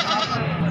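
A goat bleats at a livestock market, one short loud cry close by with a busy crowd murmuring behind it.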